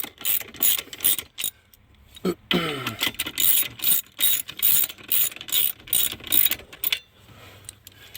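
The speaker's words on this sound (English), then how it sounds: "I'm going to work on just snugging these nuts up a little bit, not getting them tight, just to pull it up." Ratchet snugging nuts on a Hyundai Sonata Hybrid steering column, rapid repeated clicking strokes in quick rhythmic bursts with brief pauses, close and crisp, with a few metallic clinks.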